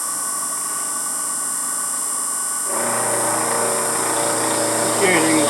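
An Emco F1 CNC mill starts up partway through, cutting with a 10mm carbide cutter, giving a sustained tonal whine and machining hum that follows a quieter idle drone.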